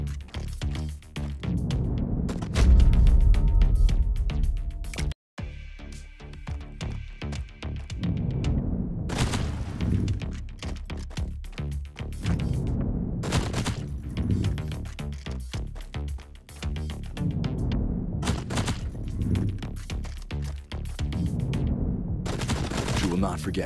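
Gunfire in the shooting video game Run & Gun, dense bursts of rapid shots repeating throughout, loud and close with brief pauses between volleys.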